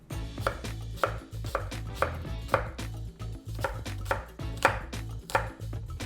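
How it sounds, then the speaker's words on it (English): An apple being chopped with a knife on a board, a steady run of crisp, close taps at an even rhythm with no voices. "So first up, I'm going to chop 1 cup of apple."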